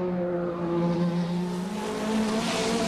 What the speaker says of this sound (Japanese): メルベのドライブするケンウッドポルシェはしっかりとした足取りで チームと観衆の待つグランドスタンド前を通過。